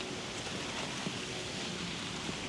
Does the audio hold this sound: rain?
yes